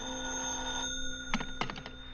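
A telephone bell rings in a dramatic radio play, a steady sustained ring that stops, followed by a few quick clattering knocks, fairly close and clear.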